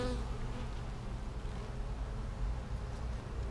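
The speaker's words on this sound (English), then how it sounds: "we have a blowing up bee population here" Honeybees buzz steadily and densely around an open Flow Hive during a comb-repair check, a continuous close hum with no talk over it.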